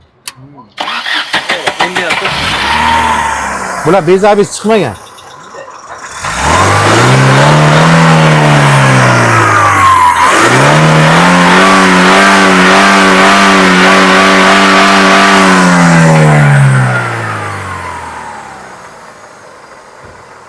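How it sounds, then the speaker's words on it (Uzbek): A used car's engine cranks and catches, then revs up and down in rising and falling sweeps before settling; someone speaks briefly at the start. Heard at a used car sale. "Bitta motorni qo'shing qani, zvukini eshitaylik."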